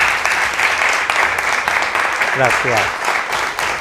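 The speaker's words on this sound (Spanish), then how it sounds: "lo primero merece un aplauso" Steady, broad applause from a conference audience in a hall at the Ateneo de Madrid, holding throughout while a speaker briefly says something over it.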